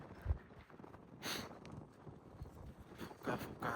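Gusty wind buffets the microphone on a mountain ridge in the Krkonoše, coming as uneven low rumbles and bursts of noise, fairly faint overall.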